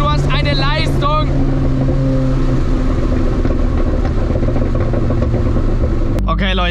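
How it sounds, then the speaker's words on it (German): McLaren 765LT, tuned to 1100 PS, with a loud, close engine drone and sharp exhaust pops, including a crack near the end. A voice speaks briefly at the start. "das erinnert mich hier schon an 675 LT vom Sound her. Hier dieses Knallen."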